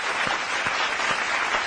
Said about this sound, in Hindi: जोरदार ताली स्वागत करिए